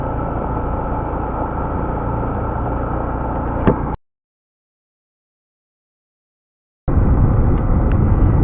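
A motorcycle rumbles along a rough forest road, its engine droning steadily with jolts and one sharp knock, then cuts out for a few seconds before the noise returns.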